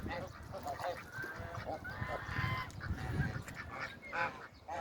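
A flock of geese honking repeatedly and overlapping at the Yeşilırmak river, close and busy, with some splashing and outdoor background noise.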